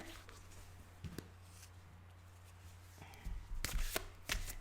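Quiet riffling of a deck of cards being shuffled, with a few soft taps and a louder flurry of card snaps near the end.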